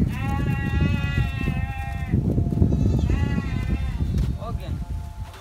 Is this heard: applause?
no